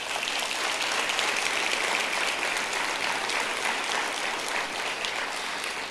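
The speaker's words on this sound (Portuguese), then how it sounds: "Quem crê nisso, aplauda o Senhor Jesus." Church congregation at a worship service applauding, a steady, broad wash of many hands clapping that fills the space evenly for the whole stretch without a break.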